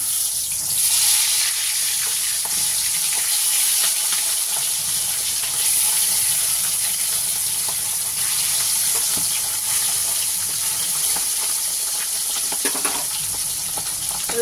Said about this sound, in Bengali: এবার আমি মাছগুলোকে আগে ভালো করে ভেজে নেব